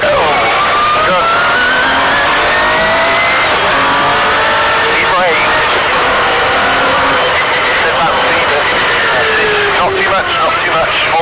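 An MG Metro 6R4 rally car engine revs hard and accelerates, loud and close with rising and falling pitch as the driver goes on and off the power, under a voice giving instructions.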